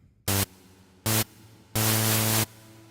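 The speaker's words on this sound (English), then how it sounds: "this is the white noise sound" Three bursts of synthesized white noise with long reverb, two short then one longer, switching abruptly on and off over a low hum.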